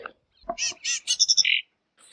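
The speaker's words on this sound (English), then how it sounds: "And the bird life is very prolific." Short bursts of bird calls on rural farm land, a few quick chirps and squawks close by in under two seconds, separated by near silence.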